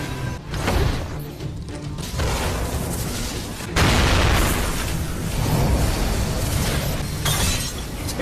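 Tiger grass blows up in an animated Chinese cultivation fantasy, with an earth-protection talisman shielding against the blast: loud, dense booming and shattering bursts in close succession, a fresh, stronger surge partway through.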